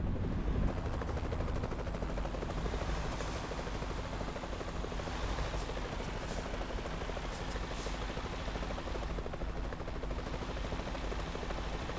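A helicopter idles on a hospital helipad in American Truck Simulator, a constant loud rotor-and-turbine roar filling the whole stretch without any talking.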